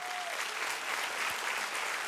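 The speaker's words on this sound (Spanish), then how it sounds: "Denle un fuerte aplauso" Faint congregation applause at a church sermon, a steady wash of clapping from a distant crowd with no talk over it.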